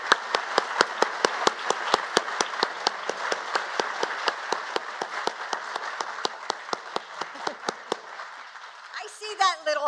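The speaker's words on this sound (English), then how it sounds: "please wave so that we can applaud you" Audience applause for National Guard families at a holiday decorations event with the First Lady, a steady crowd clapping with sharp, regular hand claps, moderately loud for about eight seconds before fading into a brief burst of talk at the end.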